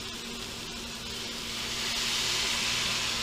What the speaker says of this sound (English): I'm going to steam this